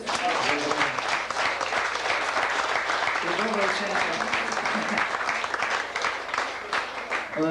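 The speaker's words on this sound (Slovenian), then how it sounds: "tako da dajmo kar še en aplavz" Audience applause at a music promotion event fills the space, a dense clatter of many hands mixed with voices talking over it throughout.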